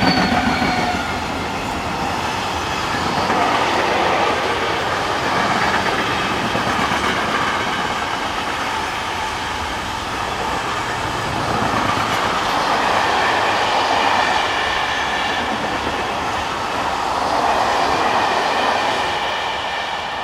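A freight train hauled by class 37 locomotive 37046 rolls past on freight loops, a steady loud rumble of wagons with wheel clatter and a faint squeal running throughout.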